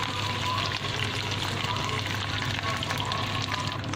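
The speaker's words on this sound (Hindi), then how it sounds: "लहसुन अदरक को हल्का हल्का सा फ्राई करेंगे" Garlic and ginger fry in a pan as a steady, dense sizzle, close and continuous, with a faint voice underneath.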